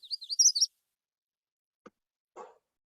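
Recorded bird song in three sections of clear, variable-pitch notes: a bright, warbling high burst up front, then a brief faint chip and a softer, lower-pitched phrase after a pause.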